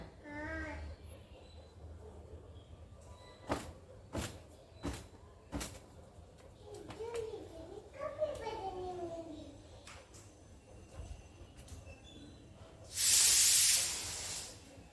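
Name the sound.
pressure cooker hissing steam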